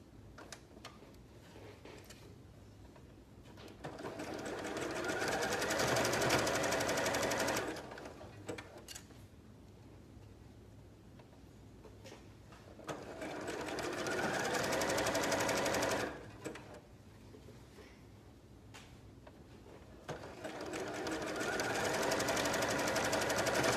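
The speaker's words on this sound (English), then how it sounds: "let me sew this and then I'll show you how to fold the neckband" A sewing machine runs close by, stitching a sleeveless knit top in three long bursts of steady rapid whirring and ticking, each lasting several seconds, with quieter pauses of handling between them and no talk.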